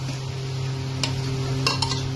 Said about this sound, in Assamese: এতিয়া মই কুকাৰৰ ঢাকনিটো মাৰি দিছোঁ